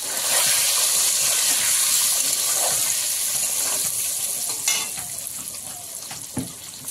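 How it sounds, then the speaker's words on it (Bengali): Loud, steady sizzling of ten eggs frying in hot oil until browned, a constant bright hiss with occasional small pops and clinks. "ডিমটা লাল লাল করে ভেজে নেব।"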